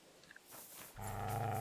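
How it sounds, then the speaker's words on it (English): A wild dog in Kingdom Come Deliverance 2 lets out a low growl near a burned-down building, rising into a louder sustained snarl over quiet game ambience. "Hello, wild dog."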